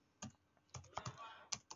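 Quiet, irregular keystrokes on a computer keyboard as a channel name is typed, with around half a dozen separate key clicks close by.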